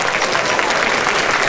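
Loud, dense applause from a large audience at a convention closing ceremony, steady and sustained with no pauses and no talking over it.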